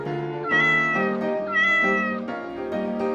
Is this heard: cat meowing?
yes